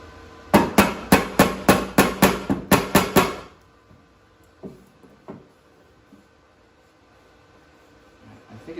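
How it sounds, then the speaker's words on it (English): A hammer strikes the rear quarter panel of a 2001 Chevrolet Suburban in a rapid run of about eleven sharp metallic blows, then falls quiet except for a few softer knocks and faint shop background. "So maybe the hammer. Yeah, it's time to hammer on things."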